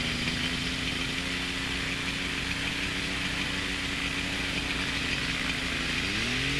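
An ultralight aircraft engine runs steadily at close range, a buzzing drone that holds constant before its pitch shifts near the end.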